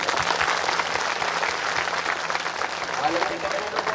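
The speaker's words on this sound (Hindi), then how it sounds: "जोरदार ताली तो बजाती रहो।" Dense, continuous applause from a crowd gathered at a village religious darbar, loud and close throughout, with some voices mixed in.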